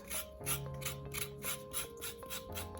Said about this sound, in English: you basically take a knife and you would just scrape the thin outer layer off